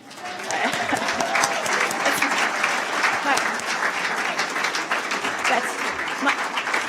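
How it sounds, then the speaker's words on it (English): A crowd applauds steadily, dense clapping that swells in and continues without letup. "I give you applause for sharing your valuable time with us"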